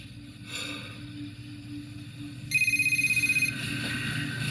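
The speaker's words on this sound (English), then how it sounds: "Your phone, Connor." A telephone rings once in a dramatic TV scene, a short burst of repeated electronic trills in the middle of the clip over a low musical background hum.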